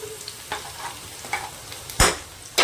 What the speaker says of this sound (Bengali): আলুগুলো ভাজা হতে থাকে, একটু লাল লাল করে ভাজবো।